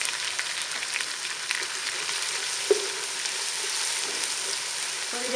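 Ginger garlic paste and cumin fry in a hot pan for chole, a steady close sizzle with a few small pops, and no voices over it.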